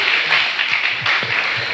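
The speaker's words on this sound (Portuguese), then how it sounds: "E pode aplaudir o Senhor bem forte." Church congregation applauding loudly at an evening worship service, a steady, dense wash of clapping that holds evenly for nearly two seconds with no talk over it.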